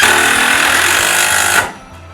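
A power driver sinks a screw through log railing into the rail. It makes a loud, steady buzzing whir with a pulsing low chatter that stops abruptly, leaving near silence.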